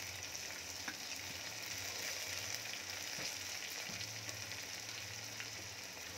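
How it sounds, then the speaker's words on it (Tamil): Sliced big onions and curry leaves sautéing in a pan for mutton thokku, giving a steady close sizzle with faint stirring scrapes throughout, no talking. "இப்போ இது எல்லாத்தையும் நல்லா வதக்கிடுவோம்."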